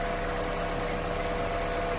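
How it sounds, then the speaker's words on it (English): A Toyota Prius hybrid engine held running in maintenance mode idles with a steady low hum and faint vibration, no voices heard over it. "maintenance mode will keep the engine running as long as you don't change gears or turn it off"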